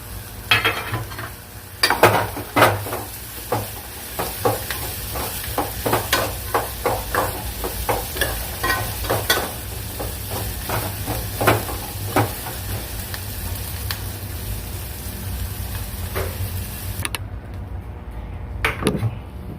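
Carrot pieces fry in a pan while being stirred, a sizzling bed broken by repeated sharp scraping strokes of a spoon at an irregular rhythm, ending in a brief quiet gap and one more stir.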